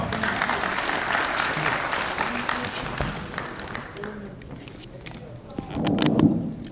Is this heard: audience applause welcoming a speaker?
yes